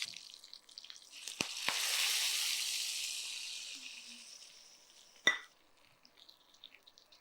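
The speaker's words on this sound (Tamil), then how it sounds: "இப்போ நம்ம இதை ஆஃப் பண்ணிவிட்டு கருவேப்பிலை சேர்த்துட்டு இதை நம்ம போட்டுடலாம்." Curry leaves dropped into a hot pan of oil, a sharp crackle that settles into steady broad sizzling and slowly fades, with a couple of utensil clinks before it and a louder clink near the end.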